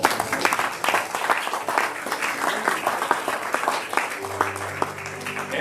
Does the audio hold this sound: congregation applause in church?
yes